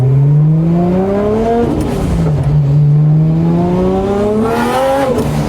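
A 1989 Nissan Silvia S13 with a swapped RB25 engine, big gearbox and aggressive cam revs up in two long climbing pulls. Each rev rises steeply, falls back, then swells again, loud and close.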